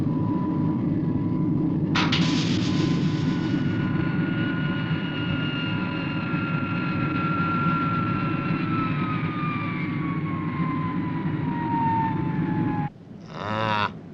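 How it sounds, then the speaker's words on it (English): A plane drones steadily overhead, a sustained engine tone that slowly falls in pitch as it passes, heard over a low rumbling background and cut off abruptly near the end by a sharp burst of noise. "What's this? A plane?"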